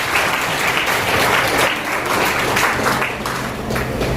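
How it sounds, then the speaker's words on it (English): An audience applauds a professor of health information management at a school event, steady dense clapping throughout at moderate loudness with a faint low hum beneath. "Another round of applause for you."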